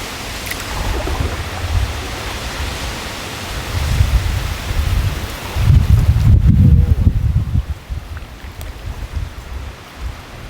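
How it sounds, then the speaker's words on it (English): Strong spring wind gusts on an open-water canoe trip in freezing weather, a broad roaring rush that swells in waves and peaks loudly midway before easing, with no talk. "It's just unbelievable, the strength of the wind."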